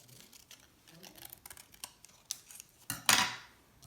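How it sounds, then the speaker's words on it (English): Scissors snipping through paper to cut out an organic leaf shape, a few short close crisp snips and rustles that build to a louder cut near the end, with no talking. "let me go ahead and cut out my organic leaf shape here"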